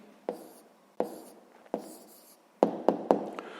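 A pen writes a short answer by hand during a sixth-grade maths exercise: a series of distinct scratchy strokes and taps, three spaced ones then a quicker cluster of three, close and fairly quiet with no talking.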